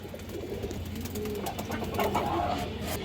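Indian kaldom high-flyer pigeons coo softly at a steady low level, their throaty murmurs overlapping amid a noisy background with scattered clicks and rustles.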